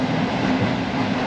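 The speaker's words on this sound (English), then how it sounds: "The train is now heading towards Katowice and then on to Krakow." Passenger train running towards Katowice and Krakow, heard from inside as a loud, steady rumble and rattle of the carriage with no pauses.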